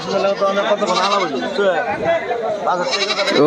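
Goats and kids bleat close by at a busy goat market, their cries mixed with steady chatter from the crowd and someone speaking over them.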